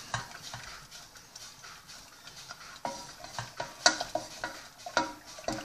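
Butter being broken up and stirred in a pan for a cheesecake base, with irregular close scraping and clinking taps of a utensil against the pan and faint sizzling underneath.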